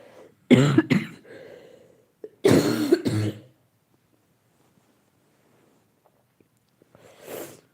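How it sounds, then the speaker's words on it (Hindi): Two harsh bouts of coughing, each a quick cluster of hacks close to the microphone, followed by silence and a faint breathy sound at the end. "भैया मुझे खांसी बहुत आ रही है।"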